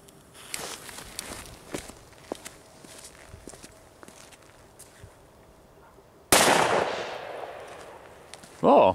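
A Thunder Color firecracker goes off outdoors with a sudden loud blast partway through, followed by crackling that tails off, then a second short loud burst near the end; faint footsteps and scattered small pops come before it.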